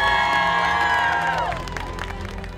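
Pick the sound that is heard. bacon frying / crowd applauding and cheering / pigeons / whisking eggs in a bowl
crowd applauding and cheering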